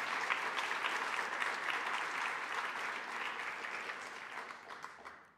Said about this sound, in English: can we just give one more round of applause to that amazing panel and moderator?